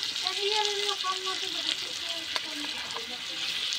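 Spice paste fries in a pan for mutton curry, giving a continuous crackling sizzle mixed with light stirring scrapes.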